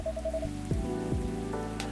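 Heavy rain falls steadily as a soft, continuous patter under sustained musical tones and low swells.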